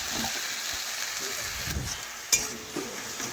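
Sugar melting in a pan for a coriander chutney, giving a soft, steady sizzle with occasional scraping stir strokes and one brief clatter near the end.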